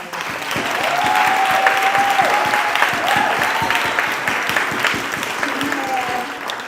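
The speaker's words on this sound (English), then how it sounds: "let's give both our moderator and our candidates a round of applause" An audience at a candidates' forum claps for the moderator and the candidates, a sustained round of applause from a room full of people that swells and slowly fades, with a few faint voices underneath.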